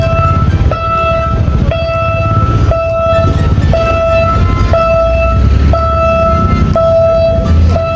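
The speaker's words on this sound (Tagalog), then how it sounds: "So ayan, may tren po tayo mga kababayan," A train rumbles past nearby with repeated horn toots at a steady rhythm, loud and continuous.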